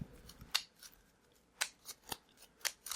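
Magic: The Gathering cards being shuffled at a table during a Modern match, a few quiet, sharp riffling snaps spaced irregularly over a faint background, with no voices.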